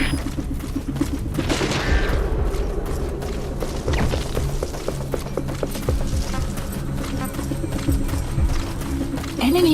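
Weapons fire in the video game Metal Gear Solid V as loud, dense volleys of rattling shots, mixed with mechanical clanks and booms throughout.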